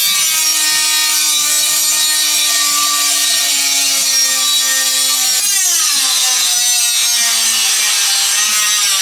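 A Dremel rotary tool cuts through a rusted panel on a Toyota AE86, a steady loud whine with a strong tonal note that drops in pitch as the cut finishes and the tool winds down, with no talk.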